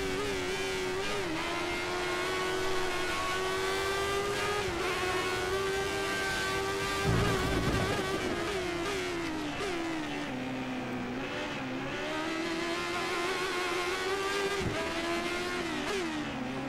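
Formula 1 race cars from the 1988 season at the Portuguese Grand Prix, in a modded F1 2013 game. A steady high engine whine rises and falls with gear shifts and braking, with another car briefly passing.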